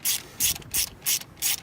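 Ratchet loosening cylinder head bolts on a Jeep Cherokee 4.0L engine, five evenly spaced bursts of rapid clicking, close and crisp.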